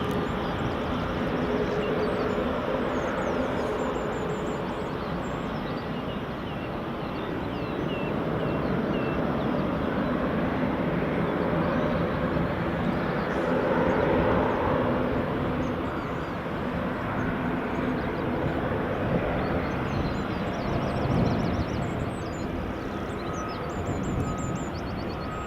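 A British Airways airliner comes in to land at Edinburgh Airport, its engine roar steady, loud and continuous throughout with a broad rushing drone and no talk.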